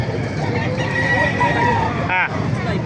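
Roosters crow amid the bustle of a gamefowl market, several calls overlapping with clucking and steady crowd chatter close by, one sharp crow standing out near the end.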